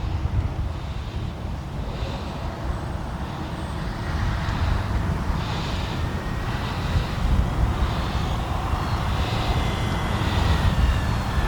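An Arrows RC Trekker model airplane, modified, flies on a gusty, windy day, its small electric motor a faint distant whine under constant loud wind buffeting on the microphone.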